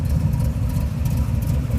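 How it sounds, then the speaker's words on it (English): A 1973 Chevrolet Corvette engine idles steadily up close, a deep, even low rumble with no speech over it. "Car idles nicely."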